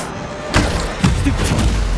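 Confringo spell explosions in Hogwarts Legacy, two heavy booming thuds about half a second apart, close and loud over a steady background rumble.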